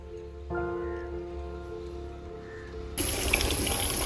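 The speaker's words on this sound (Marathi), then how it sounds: "तळातलं जे आहे ते पाणी फक्त ह्या लेवलच्या वर जायला लागलं का तरी तळातलं पाणी इथून बाहेर पडतं" Water pours from the outlet pipe of a geranium oil distillation separator. A low mechanical hum runs first, then the outflow starts abruptly as a loud, steady, hissing gush.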